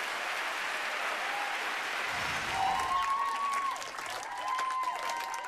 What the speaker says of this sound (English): And a huge round of applause for Strathearn School.